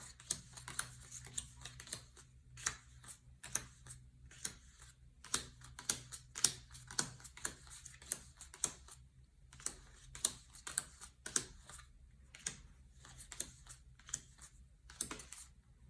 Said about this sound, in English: See how fast I can sort a pile of cards